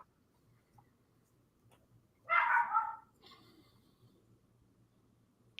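A dachshund gives a short burst of barking, a single loud cluster of yaps lasting under a second, followed by a fainter bark and then quiet room noise with soft breathing.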